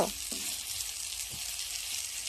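Ash gourd leaves fry lightly in a little oil with a steady, close sizzling hiss that runs the whole time and never lets up.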